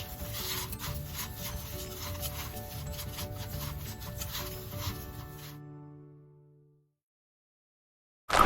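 Cactus soil medium being mixed by hand, a steady close gritty rubbing and rasping of coarse soil that runs continuously for several seconds, then fades into silence before a brief loud bump at the very end.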